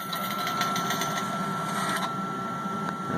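An IGT S2000 slot machine cashing out and printing a ticket makes a steady, close mechanical whir that runs evenly for about three seconds, with no talking.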